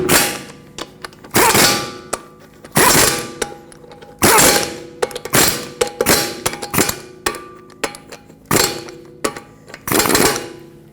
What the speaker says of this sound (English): Because I have steel wheels, I'm torquing this to 63 foot-pounds